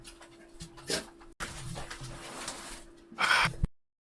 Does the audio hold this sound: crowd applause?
no